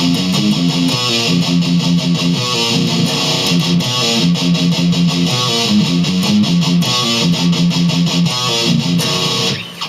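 Fast distorted electric guitar riff, tight palm-muted low-string chugging under rapid picking, loud and continuous for nearly ten seconds, played alone without talk.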